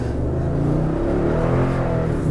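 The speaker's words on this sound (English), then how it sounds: "it is just a fun to drive truck with the big V8 and the cool sound" A 2020 Toyota Tundra TRD Pro pickup with a big V8 accelerates, its deep, steady engine rumble rising slightly in pitch, heard close and loud from inside the cab.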